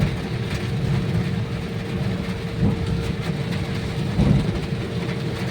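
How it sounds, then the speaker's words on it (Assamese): Heavy rain drums on a vehicle travelling by road toward Madanpur, a loud continuous wash over a deep rumbling road and engine noise, without voices. "ইমান বৰষুণ আকৌ দেখা পাও নাই"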